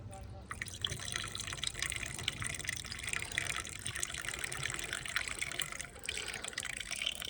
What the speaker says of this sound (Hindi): पानी ले आऊँ, पानी डाल दूँ मैं रेडिएटर में